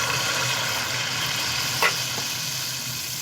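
Khir pitha batter sizzles in hot oil with a steady, dense crackle, close and continuous, plus one brief clink partway through and no voices.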